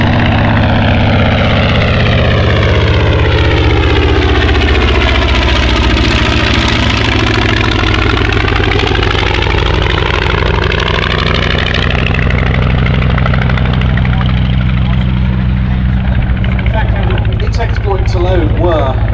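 A Soviet propeller aircraft drones loudly during a flying display at the Shuttleworth air show, its engine pitch sweeping down and back up as it passes, with a commentator talking throughout.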